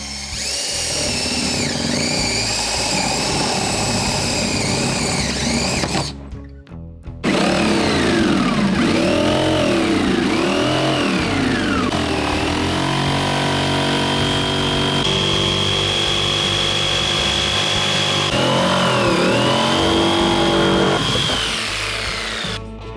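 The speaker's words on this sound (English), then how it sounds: "That'll allow me to smoothly start my cut with the jigsaw." Jigsaw cutting a rear hatch hole in the deck of a 2020 Hobie Outback kayak: a loud, continuous buzzing whine that holds steady for most of the stretch, with a brief pause partway through, and no talking.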